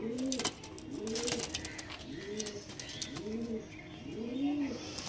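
Black Diamond pigeons kept for sale coo in a steady series of about five low, rolling calls, close by, with a few faint higher chirps and background noise between them.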